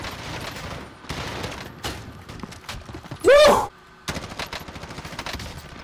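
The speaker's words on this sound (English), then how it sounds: "I'm getting shot from somewhere" Bursts of automatic gunfire in Call of Duty Modern Warfare Warzone, rapid crackling shots in several clusters with one loud close burst near the middle, set against in-game ambience.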